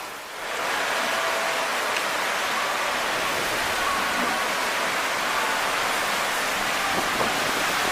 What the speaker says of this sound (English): you can see right now that the water is flowing very heavily